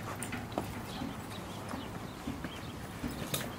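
A horse being trained to lie down on command: quiet, faint hoof clops and shuffling steps on ground, irregular, with no talk.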